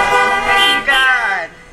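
Car horns honk at a drive-in worship service in a loud, sustained blare of overlapping tones, with a brief dip before a second swell.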